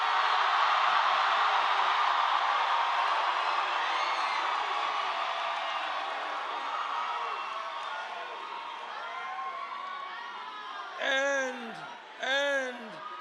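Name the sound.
loud crowd cheering at Bernie Sanders rally in Phoenix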